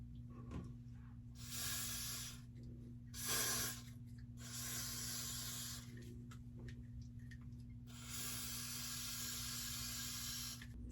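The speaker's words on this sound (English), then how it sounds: "Then I'm gonna spray this freezing spray." Freezing spray from an aerosol can hisses in several bursts of a second or two each, the longest near the end, close by and fairly faint, with quiet gaps between.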